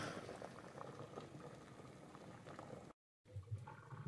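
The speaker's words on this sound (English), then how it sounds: "The potatoes have been boiling for about 10, 12 minutes, and I think they're about ready." Potatoes boiling in a pot, a close, steady bubbling and rolling of water that cuts out briefly before resuming.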